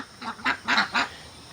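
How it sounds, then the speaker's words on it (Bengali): An angry Chinese goose honks four times in a quick, loud, close burst, harsh nasal calls with no one talking. "এই দেখা হচ্ছে রাগি চিনি হাঁস"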